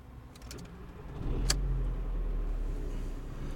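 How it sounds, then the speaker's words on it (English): An Audi 1.8T car engine cranks and catches, settling into a steady low idle rumble close by, with a brief faint jingle just before it starts. "So I'm just gonna launch the car."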